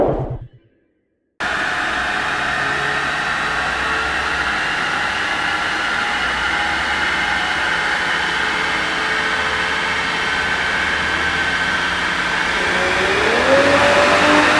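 A stock first-generation Lexus IS300 with a Toyota 2JZ-GE engine runs on a chassis dyno, holding a loud, steady engine drone that builds slightly in pitch toward the end after a brief near-silent gap at the start.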